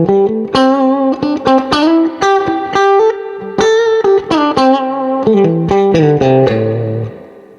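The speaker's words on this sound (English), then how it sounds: "that's the reverb at 4" A 1976 Fender Vibrolux Reverb amp with its reverb set to 4 carries a loud, wet, clean guitar line of plucked notes and chords, each one trailing a long spring-reverb tail.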